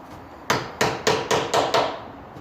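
Pin tapped into a wooden mortise-and-tenon joint of a slab wood furniture piece: six sharp, fairly close knocks at an even, quick rhythm, no talking.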